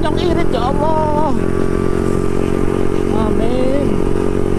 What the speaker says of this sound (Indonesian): Tapi ini motorannya jadi kenceng Bol